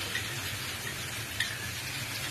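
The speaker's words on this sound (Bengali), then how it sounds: "এখন আমি দিয়ে দিচ্ছি পোস্তর পেস্ট" Poppy seed paste for dim posto, an egg and poppy seed dish, sizzles as it goes into a hot frying pan, giving a steady, close hiss of frying oil for the whole short stretch with no talking.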